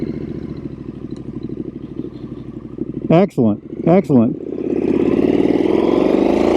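Triumph Street Scrambler 900 motorcycle engine running steadily beneath a rider's speech, its note swelling louder toward the end as it revs.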